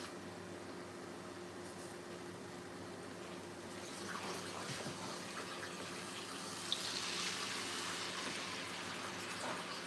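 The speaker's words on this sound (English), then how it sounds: "put some water in there" Water is poured into a hot cast iron pan, giving a steady hissing, sizzling rush that builds slightly partway through and stays fairly faint.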